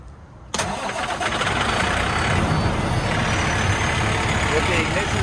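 An aerial ladder fire truck's engine cranks and catches after a short quiet moment, then settles into a loud, steady close-up idle rumble.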